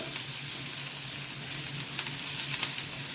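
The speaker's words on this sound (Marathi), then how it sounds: "त्यामध्ये जिरं, कांदा हे छान परतून घेऊ आपण." Cumin seeds and onion sautéing in oil in a pan for a Maharashtrian dahi bhindi, giving a continuous close hiss and crackle with a few faint stirring scrapes.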